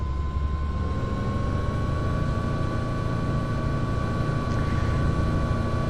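A steady engine whine and hum from a helicopter auto-starting in Microsoft Flight Simulator X, constant and droning with a high tonal note, no talking.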